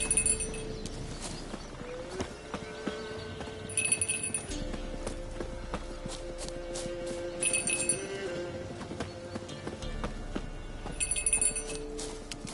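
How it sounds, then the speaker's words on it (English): Horse hooves clop along in a medieval fantasy game world while a small bell jingles in bright bursts every few seconds, over a quiet ambient bed with no speech. "Do I really have to keep ringing this bell for you to follow?"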